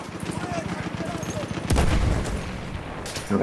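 Gunfire in a Battlefield 1 multiplayer match: rapid bursts of shots, then a loud close blast and another sharp burst near the end.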